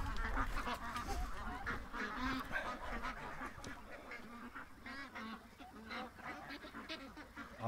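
Ducks and geese honk and quack in overlapping calls at close range, a busy flock chattering at low volume throughout.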